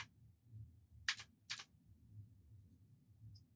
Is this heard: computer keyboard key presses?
yes